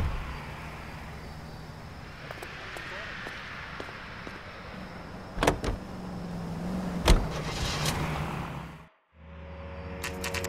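Car driving in the video game L.A. Noire, a steady engine and road drone running under the scene with a few sharp thumps and clicks, then a brief cut to near silence before the drone resumes.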